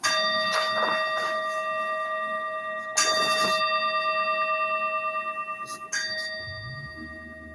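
Bells rung during a religious service, several distinct metallic strikes with long sustained ringing tones, struck at intervals and decaying between hits, heard alone without talk.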